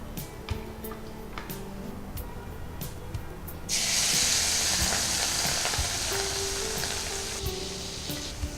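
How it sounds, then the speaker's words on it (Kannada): Food deep-frying in hot oil, a steady broadband sizzle that swells sharply partway through as the batch goes in, with small clicks and stirring ticks over a continuous hiss, fairly close and without talk. "ಈಗ ಇದನ್ನು ಡೀಪ್ ಫ್ರೈ ಮಾಡಿ ತೆಗಿತೀನಿ"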